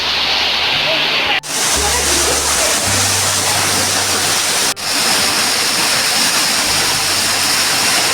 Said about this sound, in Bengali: গুহার মধ্যে দিয়ে আমরা এলাম ঝর্ণার কাছে।